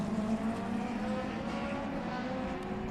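A rallycross race car engine drones steadily at a distance at Mondello Park, with a continuous buzzing tone that holds fairly even and never rises into a clear pass-by.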